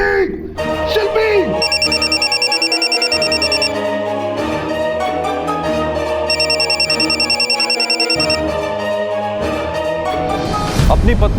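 A mobile phone's electronic ringtone plays loudly and close in repeated melodic bursts with steady beeping pulses, continuing for several seconds and ending in a short noisy rustle.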